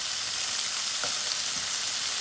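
Shrimp frying in a pan for tomato cream pasta, a steady soft sizzle with faint crackles throughout, close and unaccompanied by talk.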